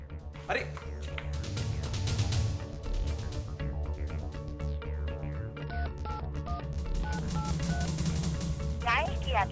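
Someone dials a phone number, producing a series of short tonal beeps amid background music and a voice, with a burst of rapid tones near the end.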